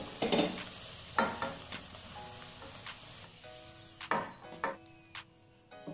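Fried potatoes being stirred and turned in a hot pan, with soft scraping strokes over a light sizzle, a few louder clatters near the start and toward the end.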